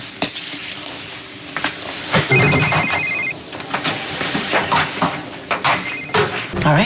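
A telephone rings with a warbling electronic ring, one longer burst and then a short second one, over a busy background of clatter and rustling movement.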